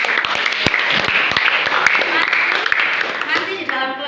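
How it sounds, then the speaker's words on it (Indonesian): A class applauds everyone, with scattered hand claps over a steady crowd murmur, while a voice talks over the clapping near the end. "Oke, tepuk tangan buat semua."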